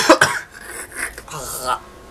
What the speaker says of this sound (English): I just keep coughing.